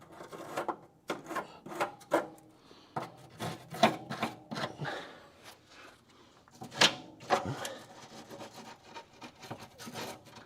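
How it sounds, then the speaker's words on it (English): A wire brush scrubs the back of bolt threads on a fender through bolt of a Dodge Coronet crew cab, a series of short, quiet, rasping strokes in an irregular rhythm, heard close with no talking. "So if I just brush the back of the threads"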